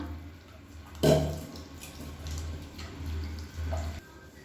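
Soaked tamarind squeezed by hand in hot water, with soft splashing and sloshing of liquid, one sharper splash near the start and gentle wet squelches after, fairly quiet and with no talking.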